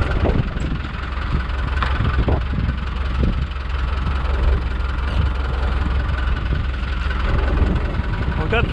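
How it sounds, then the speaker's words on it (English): A heavy tractor engine idles and rumbles steadily throughout, close and loud, with occasional knocks and rattles over the drone. "Gotta get out to my driverless tractor here."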